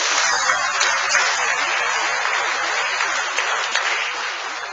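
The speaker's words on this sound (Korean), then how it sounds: "우리 다시 한번 감사의 박수 하겠습니다." Congregation applause at a church pastor installation ceremony, a steady wash of many hands clapping that holds for the full stretch without pause before easing off slightly at the end.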